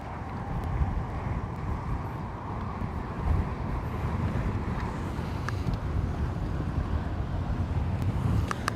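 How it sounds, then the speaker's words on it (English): Strong wind buffets the microphone over choppy water on Lake Guntersville beside a boat, a steady low roar with gusts running the whole time and no one talking. "It is choppy. That wind is blowing."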